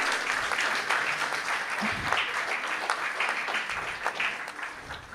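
Applause from an audience at a felicitation ceremony held by the Governor for Bharathiyar's birth anniversary in Chennai: a steady wash of clapping that continues throughout.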